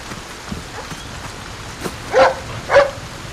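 A dog in the survival horror game Resident Evil 4 Remake gives two sharp barks close by, near the end, after a quiet stretch of faint game ambience.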